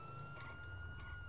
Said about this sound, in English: Keep your sirens on.